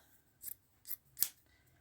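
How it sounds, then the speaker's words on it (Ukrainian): Scissors snip three times through fabric strips being cut for a braided rug, each crisp cut spaced roughly half a second apart, close and fairly quiet with no talking. "І так от ріжемо, ріжемо."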